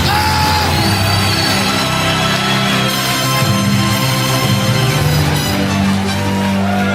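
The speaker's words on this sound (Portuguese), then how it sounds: "dá um berro de glória a Deus" A Pentecostal church congregation yells and shouts praise together during a service, a loud, dense wall of mixed voices and whoops sustained throughout.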